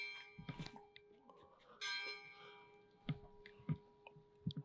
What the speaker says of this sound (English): as the church bell resonates